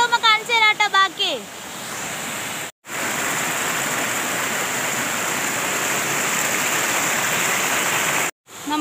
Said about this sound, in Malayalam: എന്ത് ഭംഗിയിലോ ഒഴുകണേന്ന് നോക്കിയേ സൗണ്ട് കണ്ടോ